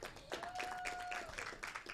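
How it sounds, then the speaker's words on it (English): Applause and cheering from a live audience at a fair panel event, dense broadband clapping throughout with a brief whistle-like tone in the crowd, fairly loud and continuous. "A big round of applause, please."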